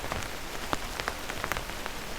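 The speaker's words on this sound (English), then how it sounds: "Rain continues falling around you." Steady rain falls on a hard surface, a constant hiss with scattered louder drops tapping close by.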